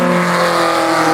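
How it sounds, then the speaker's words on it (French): Simca Rallye 2 race car at a hillclimb event, its engine roaring loud and steady at high revs as it passes close by, with no break in the sound. "Philippe Ginel, il arrive, il est devant nous avec la Simca à Rallye"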